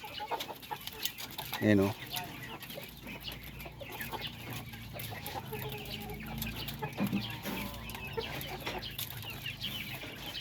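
Native chickens and ducks feed on new pellets in a farmyard, with clucking and chicken calls, a loud call near the start, over steady background noise while people talk.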